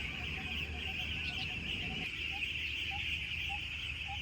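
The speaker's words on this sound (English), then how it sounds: "Listen to the dawn chorus. Listen to them birds" Birds singing from several directions at dawn beside a riverside campsite, with a steady hum of insects or distant water underneath and repeated short chirps standing out moderately close.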